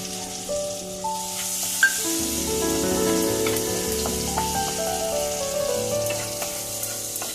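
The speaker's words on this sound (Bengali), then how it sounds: "এই যে আদা কাঁচা লঙ্কার যে জলটা আছে এই জলটা আমি অল্প করে আমি দেবো।" Ginger and green chili water is poured in small amounts into masala frying with cumin and coriander powder, giving a loud close sizzle with bubbling and liquid spatter throughout and no speech.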